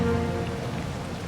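Steady rain falls in a Diablo 4 cutscene as hellspawn pour from a hellgate beneath a city palace, a dense, continuous hiss of drops on surfaces with no talking.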